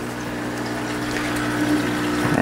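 An aquarium sump pump for a DIY CO2 gel delivery setup runs with a steady, continuous hum and watery gushing, growing slightly louder near the end, with no talk.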